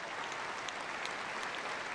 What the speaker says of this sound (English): Give these pups a big round of applause